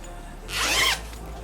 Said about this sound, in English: So it has a zipper.